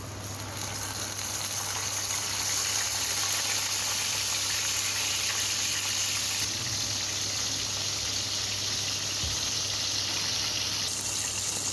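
Pieces of fish fry in about five or six spoons of hot oil for a pohla fish curry, giving a continuous, even sizzling hiss up close for around twelve seconds with no talk.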